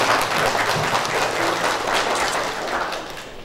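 Applause at a gathering: a crowd claps steadily and fairly loudly, a dense, even patter that holds throughout and tapers slightly near the end.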